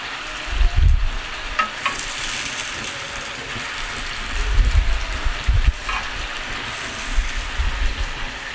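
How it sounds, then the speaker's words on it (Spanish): Chicken browning in a pan in a rustic kitchen: a close, continuous sizzle broken by repeated scraping and stirring clatters that come in clusters, with no one speaking. "Igual estamos aquí aprovechando en lo que se está dorando bien el pollito."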